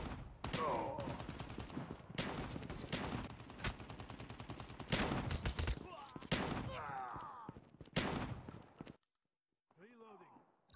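Call of Duty Mobile gunfire, dense rapid bursts of automatic shots crackling close and loud for several seconds with brief pauses, then falling silent, with game voice lines heard among the shots.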